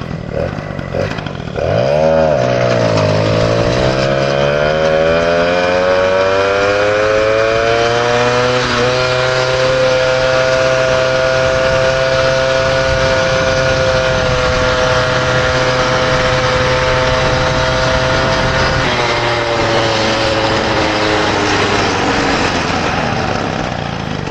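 A Peugeot 103 moped engine revs up and holds a loud, steady high-pitched two-stroke drone at full speed, rising in pitch early on and staying constant throughout, with no talking.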